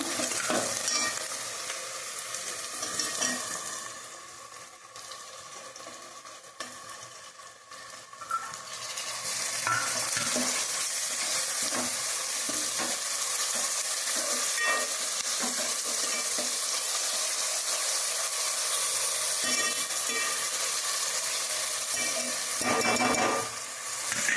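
Tomatoes go into a pan of well-fried onions and green chillies, and a loud, steady frying sizzle with scraping stir strokes follows, running continuously with no voices.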